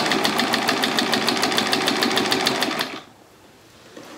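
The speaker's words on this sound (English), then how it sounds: "Make sure it's lined up to the corner or the side, and sew down that line." A sewing machine runs steadily and close up for about three seconds, stitching a quilt block along a drawn diagonal line, then stops abruptly, leaving near silence.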